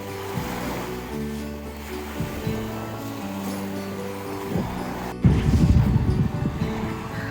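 Sea waves at a beach in Odesa on a cool late-September day, a low steady wash with a tonal hum underneath, then a louder surge of breaking surf near the end.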